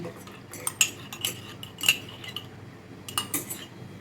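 A spoon clinks and scrapes against a pan as milk powder mixed with cornflour is stirred into milk, giving a series of light metallic taps spaced unevenly, close and fairly quiet.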